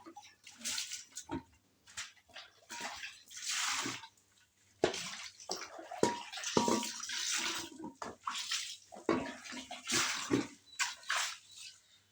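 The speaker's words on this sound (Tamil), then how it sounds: "நல்லா தேய்ச்சிட்டேன் பாருங்கள் கழுவி காட்டுறேன்" Water splashing and pouring over a freshly scrubbed aluminium pot being rinsed, with intermittent gushes and rubbing bursts repeating over several seconds, close and fairly loud, no talking.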